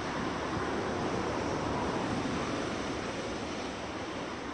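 Ocean surf rolling onto Warwick Long Bay Beach in Bermuda at night, a steady, loud broadband wash of breaking waves with heavy wind noise on the microphone, continuous with no pauses.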